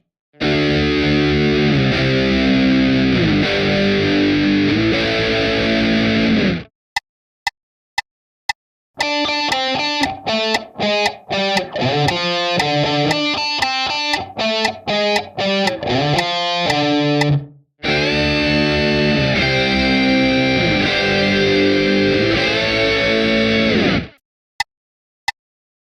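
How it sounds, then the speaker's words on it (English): Early metal guitar riff in a pentatonic, blues-scale style with a harsh fuzz distortion tone, played loud in sustained chunky bursts separated by short silent gaps and staccato choppy stabs. "combined with the newer, more obnoxious fuzz tones of the time, make this riff one of the riffs that started the progression of early metal"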